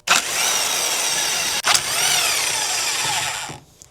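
An old corded impact driver with a star bit hammers loose a brake disc screw on a Porsche Boxster: two loud, close bursts of rapid rattling impacts with a brief gap between them, then the motor winds down.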